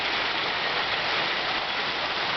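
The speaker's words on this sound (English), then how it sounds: "It's raining heavily here in New Zealand." Heavy rain falls in sunshine in Kerikeri, New Zealand, pouring onto a rooftop as a dense, steady hiss that stays loud and even throughout, with no voices.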